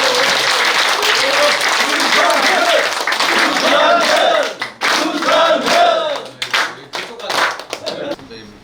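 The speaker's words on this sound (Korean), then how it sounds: "큰 박수로 맞이해 주시기 바랍니다" Audience at a political party event in Gimcheon claps and cheers loudly to welcome a lawmaker and party leadership candidate, dense applause with shouts throughout that thins into scattered claps near the end.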